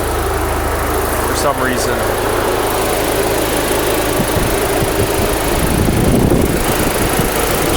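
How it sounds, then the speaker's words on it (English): Steady whooshing hum of car engine cooling fans running at full speed alongside an engine drone, with someone speaking briefly over it. "Cooling fans are running"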